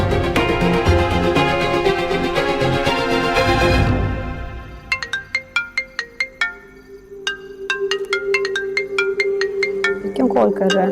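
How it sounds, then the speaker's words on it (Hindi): A phone rings in a Hindi TV drama scene, its melodic electronic ringtone repeating loudly for several seconds. A bright sustained tone plays first, then a run of short repeated chimes. "फोन उठा यार, फोन उठा एलिना"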